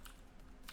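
Quick burst of computer keyboard typing, a few close, crisp key clicks in a brief flurry with no voice.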